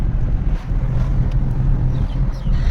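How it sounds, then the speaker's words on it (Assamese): Strong wind blowing against the microphone outdoors, a steady, loud low rumble and roar that buffets continuously throughout. "পূৰা বতাহ মাৰিছে"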